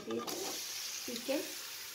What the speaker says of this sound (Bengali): এবার চিকেনগুলো দিয়ে দিচ্ছি। এবার ভালো করে একটু নাড়াচাড়া করে নেব।